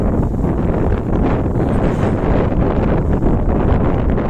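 Strong wind buffeting a microphone by the sea, a loud, constant rushing roar that covers the whole clip with no voices.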